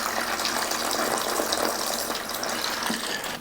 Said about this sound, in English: I'm gonna just water this in.